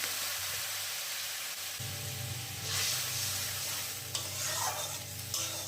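Water poured onto frying spice paste for a fish curry sizzles and hisses in the pan while a spoon scrapes and stirs, with bursts of louder spitting as the liquid hits the hot oil.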